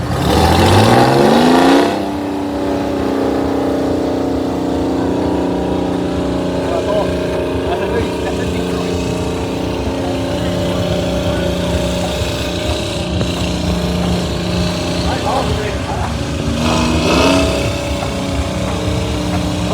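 A Detroit Diesel powered tractor runs at a steam and gas engine show, its loud engine revving up then holding a steady throaty drone close by, with a brief rise near the end.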